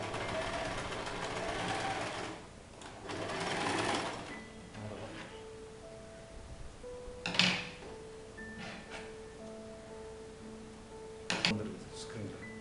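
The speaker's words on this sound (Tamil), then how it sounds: "இப்படி தான் தைச்சிட்டு போகும் ஸ்ட்ரைட்டாக" A sewing machine runs fabric in a straight seam for a pooja shelf cover, whirring in two longer close bursts and then settling into quieter stretches with a couple of sharp mechanical clicks and faint background tones.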